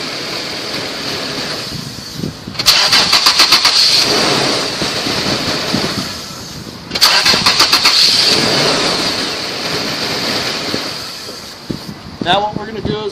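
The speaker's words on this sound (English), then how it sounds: "Notice I'm repeating to start it over and over, and the reason being is that I just want to demonstrate the power of the MicroStart" A car engine cranked and started repeatedly off an Antigravity MicroStart portable jump starter, with two distinct cranking bursts that catch into a running idle, loud and close, with wind noise and some talking.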